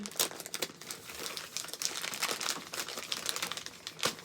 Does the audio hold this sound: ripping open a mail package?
yes